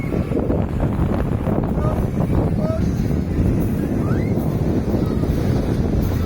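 Wind buffets the microphone and surf rolls continuously on a beach on the Aegean Sea in the Macedonia region of Greece, a loud, steady roar with no pauses.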